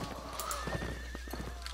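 During a cavalry battle in a video game, a horse gives a close, drawn-out whinny over a rapid clatter of hooves.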